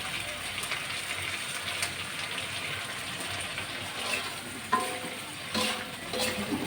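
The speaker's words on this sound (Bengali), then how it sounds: "মশলাটা দিয়ে আমি ভালো করে কষিয়ে নিচ্ছি ভেজে রাখা আলু" Spice masala sautés and sizzles in a pan, a continuous close fizzing hiss with occasional scraping stirs and small pops, no talk over it.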